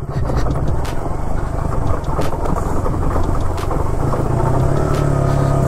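A motorbike rolls down a steep hill road on the way to Nakshathrakuthu waterfall, its back tyre slipping, producing a loud, steady engine rumble with road and wind noise throughout and no talking.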